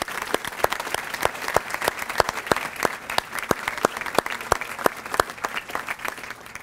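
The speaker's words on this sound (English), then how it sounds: "So I ask that we give a round of applause to the people that serve in our community." An audience claps at a county chamber of commerce business awards ceremony, producing a sustained round of sharp, irregular handclaps from a medium-sized crowd in a hall.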